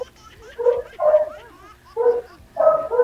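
A dog gives short yipping barks and whimpers in four separate bursts, fairly close, with quiet gaps between them.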